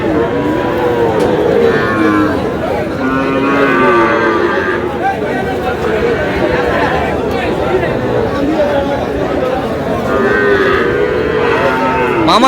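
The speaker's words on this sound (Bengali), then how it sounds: "শাহিওয়ালের সার বাচ্চা" Young Sahiwal bull calves moo repeatedly at a busy cattle market in Dinajpur. The bellowing is loud and overlapping, set over a steady murmur of crowd chatter and talk.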